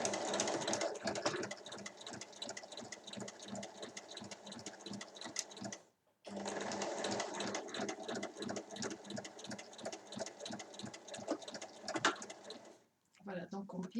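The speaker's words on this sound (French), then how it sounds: "on va venir piquer donc chacune à 1 cm du bord sur toute la hauteur" A domestic sewing machine stitches two pinned fabric strips 1 cm from the edge, running in a steady rapid rhythm of needle strokes with two brief pauses, a voice speaking over it.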